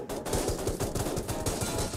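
Gunfire in the mobile battle royale game Rules of Survival, a steady rapid stream of loud shots with rhythmic thumping throughout, and no voices.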